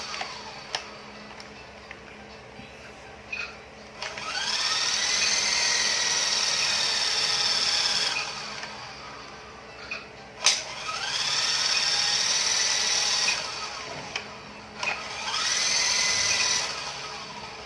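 A small electric motor of a remote-control toy helicopter powered by an 18650 cell whines in three sustained high-pitched runs, revving up and down, too weak to lift off, separated by short quiet gaps and clicks.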